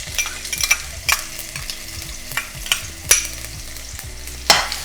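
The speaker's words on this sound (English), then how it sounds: "I'm going to add some chopped white onion." Chopped white onion is stirred into hot oil with toasting, popping whole spices for aloo saag. A close, crackling sizzle runs underneath, broken by irregular sharp pops and spatula scrapes, with no talking.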